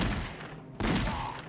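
Gunfire in the Superman 64 video game: a dense, continuous burst of crackling shots, loud and noisy throughout, with a brief dip midway before the barrage resumes.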